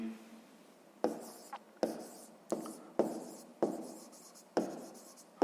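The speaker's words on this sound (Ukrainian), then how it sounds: "Я записуємо відповідь." Pen writing an answer to a sixth-grade maths exercise by hand on paper, heard as close, distinct strokes in about six rhythmic bursts with quiet pauses between them.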